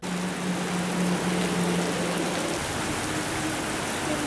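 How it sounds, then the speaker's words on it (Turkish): Steady broadband rain falls throughout, an even continuous hiss with a low hum underneath, during intermittent showers that in some regions came with hail. "Aralıklarla etkisini gösteren ve bazı bölgelerde doluyla birlikte yağan yağmur"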